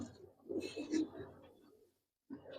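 Racer pigeon in a loft giving a soft throaty coo in a couple of close, rolling phrases, followed by a short pause and another brief coo starting at the end.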